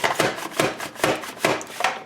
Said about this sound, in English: And we just start chopping.